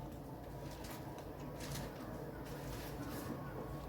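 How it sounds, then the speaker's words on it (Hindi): Colourful birds call and coo in an aviary at Gandhi Zoological Park in Gwalior, faint and somewhat distant above a constant low background hum. "ये देखो अलग रंग बिरंगी चिड़ियाँ हैं इसमें"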